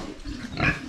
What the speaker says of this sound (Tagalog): At yung mga baboy natin dito, nabawasan po sila.